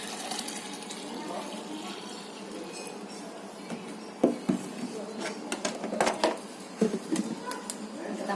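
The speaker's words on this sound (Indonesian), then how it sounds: "tambahkan air tadi ya sampai 1 liter" Water is poured into a plant-based pesticide mixture meant for chili pests, a soft continuous splash with scattered clinks and knocks of containers close by, and a voice speaks briefly.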